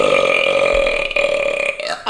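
A long, loud, sustained burp after drinking Dr Pepper rumbles steadily for about two seconds, close to the listener, and ends in a short rough tail.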